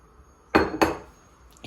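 Peaches and cinnamon tipped into a cooking pot on the stove, two quick clanking knocks against the metal close up, each fading into a short ring.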